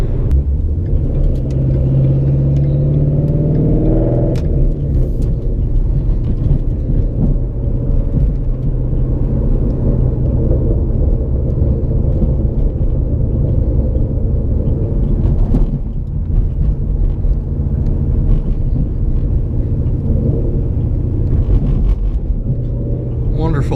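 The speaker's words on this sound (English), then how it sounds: "Mustangs, if you put real cams in them, they don't chop like this." A cammed Ford Mustang GT drives on Michigan roads, its engine a loud, low, continuous rumble with an uneven, choppy idle-like pulse, heard from inside the car as someone talks over it.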